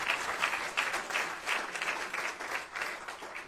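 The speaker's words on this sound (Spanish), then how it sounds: "Denle un fuerte aplauso al Señor." A church congregation applauds the Lord with a dense, steady round of clapping that fills the room at moderate loudness and continues throughout without a break.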